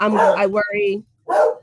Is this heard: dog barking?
yes